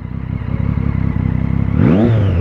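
A motorcycle engine at night with a rumbling, throbbing idle and a pulsing low beat, then a sudden rev that rises in pitch near the end, loud and close.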